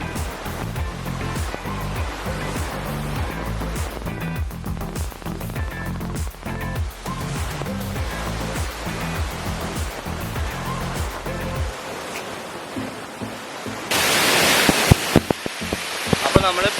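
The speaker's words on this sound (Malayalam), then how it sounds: "അപ്പോൾ നമ്മൾ പാലൂർ കോട്ട വെള്ളച്ചാട്ടത്തിൻ്റെ മുകളിലാണ് നിൽക്കുന്നത്." Water flows over Paloor Kotta waterfall in Malappuram, a continuous rushing wash heard from the top of the falls. The sound stays steady throughout, mixed with rhythmic background sounds that give way to a louder burst of spray near the end.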